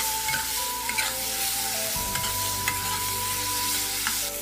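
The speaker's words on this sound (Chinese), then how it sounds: "然后加料酒、生抽，翻炒均匀，" Duck meat stir-fries in a wok with cooking wine and light soy sauce. A loud, continuous sizzle runs throughout, with scraping stir strokes and a sharp burst of hiss partway through.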